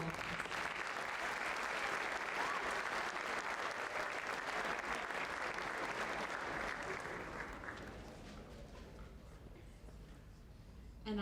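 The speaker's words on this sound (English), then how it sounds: "If we could give them all one final applause." Audience applause at a high school senior recognition night, steady sustained clapping from a large crowd that tapers off toward the end, leaving quiet room tone.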